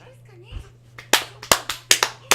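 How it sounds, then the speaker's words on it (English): A handful of sharp hand claps in a mock golf clap, spaced unevenly and close by, with some talk at the start. "Then yay, I'll give it golf clap."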